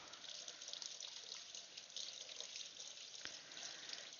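Water runs steadily from a kitchen tap as bread dough is rinsed off hands, a continuous close splashing hiss with a brief sharper splash near the end and no talking.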